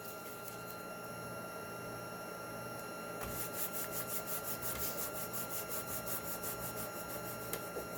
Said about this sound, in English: Just burnishing that tape on, that way it grabs all the little pieces.